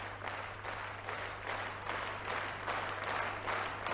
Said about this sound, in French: C'est très rare qu'un orchestre comme celui du Théâtre Bolchoï applaudisse une artiste de variété.